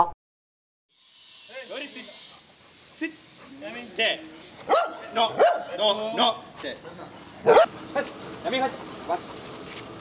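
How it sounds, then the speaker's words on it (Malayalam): Labrador police sniffer dogs trained to detect explosives bark in short, uneven bursts, some sharp and loud, mixed with handling noise and faint voices in the background. "സ്ഫോടക വസ്തുക്കൾ കണ്ടുപിടിക്കുന്നതിൽ കഠിന പരിശീലനം ലഭിച്ചവരാണ് ലാബ്രഡോർ ഇനത്തിൽപ്പെട്ട 3 നായ്ക്കളും"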